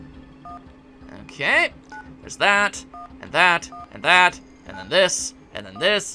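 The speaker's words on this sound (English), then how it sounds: "It's making phone noises at me." DTMF-style beeps from dialing a giant phone in the Suikoden video game, a series of separate rising tone bursts at a steady pace while someone talks over them.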